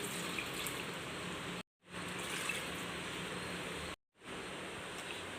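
Water poured into a pot of dried prawn and raw mango curry with drumstick, tomato and curry leaves, a steady close hiss of running liquid in three stretches separated by brief silent gaps.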